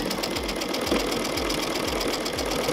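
A sewing machine stitches fabric applique with a standard presser foot, a continuous close, loud mechanical whir with a fast, steady needle rhythm running throughout, no talking.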